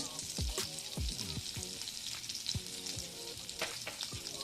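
Butter, oregano and chili flakes sizzle loudly in a hot kadai, a close, continuous frying hiss broken by sharp crackles and pops throughout.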